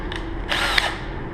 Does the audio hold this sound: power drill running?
yes